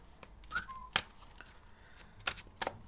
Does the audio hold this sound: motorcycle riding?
no